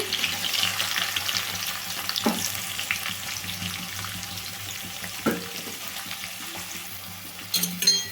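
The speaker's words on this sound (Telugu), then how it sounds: "ఫస్ట్ లైట్గా కాకర కాకరకాయ ముక్కలు అయితే వేయించుకోవాలండి లైట్గా వేయించుకుంటే సరిపోతుంది" Bitter gourd pieces fry in heated oil in a pan, a quiet, steady sizzle broken by a few sharper clinks and crackles as they are stirred, with no voices.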